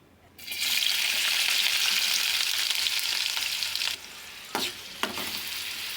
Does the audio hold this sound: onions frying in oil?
yes